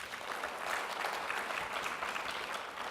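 A steady, dense wash of audience applause fills a summit panel hall at the IDC 2014 event as the crowd claps for the organizers, sustained and even throughout without any voices.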